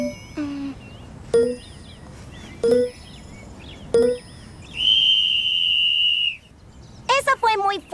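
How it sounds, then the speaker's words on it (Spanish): A loud whistle in a children's cartoon, sounding as several short tonal blasts, then a long sustained high whistle, then rapid bursts, with brief voice-like sounds between. "Ya sé, es un silbato"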